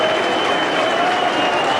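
A St Helens rugby league crowd at a home match against Leeds roars and applauds after a try, a dense, loud, sustained wall of cheering and clapping.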